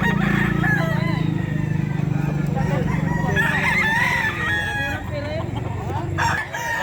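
Roosters crow and chickens cluck at a pet market, several birds calling over one another up close and loud, with a low crowd murmur underneath.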